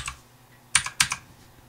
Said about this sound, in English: now we just type in